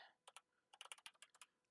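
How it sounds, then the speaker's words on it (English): Computer keyboard typing in short bursts of crisp, close keystrokes, a few isolated taps followed by a quicker run of clicks, with a brief pause between, in a quiet room during an Alan Wake II session. "Let's try typing that out again"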